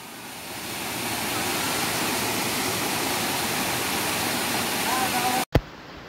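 Khoiyachora waterfall roars close by in a constant, full rush of white water over a pool, ending abruptly with a sharp knock.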